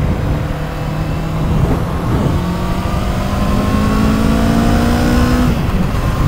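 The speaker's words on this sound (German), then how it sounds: "und dann dreht man ein bisschen auf, um vielleicht gerade so raus aus der Kurve zu beschleunigen" A 2024 Kawasaki Eliminator 500 motorcycle accelerates out of a curve. The engine note climbs steadily in pitch, loud and close, over constant wind rush, with no talking.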